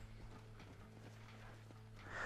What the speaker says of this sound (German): es kommt ein Pferd, wenn ich pfeife